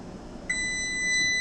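A kitchen timer set while waiting for a pot of water to boil for long grain rice goes off, sounding a sudden high steady electronic beep that continues loud and alone over faint room noise.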